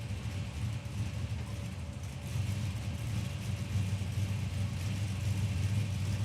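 Drag race car rolling forward after a burnout at Palmyra Raceway: a continuous low engine rumble that grows slightly heavier partway through, heard from a distance without voices.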